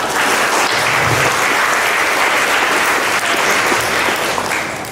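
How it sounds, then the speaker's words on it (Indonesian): Enthusiastic applause from a seated audience at a talk, a loud continuous patter of many hands that holds steady for about five seconds before easing slightly at the end. "Tepuk tangan dulu guys, semua."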